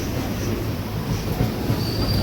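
An express train from Tiruchanur to Nanded pulls away from the platform with a dense, steady rumble of rolling wheels and a thin squeal rising near the end, heard close and continuous with no voices.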